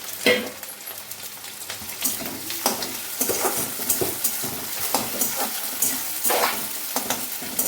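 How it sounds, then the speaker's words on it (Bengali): Onion, garlic and chili frying in a panch phoron tempering, with steady close sizzling and repeated stirring scrapes in the pan throughout. "প্রথমে ফোড়ন দিয়েছি একটু, হচ্ছে 5 ফোড়ন, এই যে পেঁয়াজ দিয়ে দিয়েছি"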